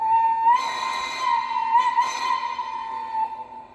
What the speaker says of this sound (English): F2 is your basic whistle.